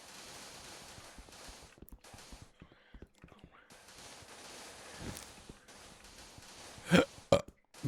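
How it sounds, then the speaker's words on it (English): A person gives a couple of loud, short burps close to the mic amid quiet whispering and faint rustling during a Minecraft survival stream. "I don't think I actually need to say burp if I actually make the sound."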